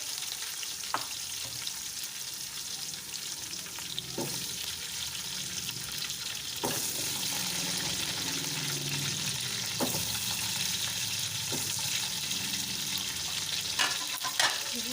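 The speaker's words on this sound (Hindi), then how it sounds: "इसको मिक्स कर लेंगे। इसमें आलू डालेंगे।" Potatoes are stirred into sizzling biryani masala with green chilies, a continuous frying hiss broken by periodic scrapes and clinks of a spoon against the pot, with the sizzle getting louder partway through.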